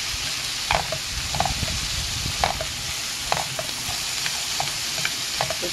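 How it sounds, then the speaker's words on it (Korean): Watermelon rind and red onion are stir-fried in a pan, a steady bright hiss of frying punctuated by regular spatula scrapes and taps every half second or so. "이렇게 볶아줍니다."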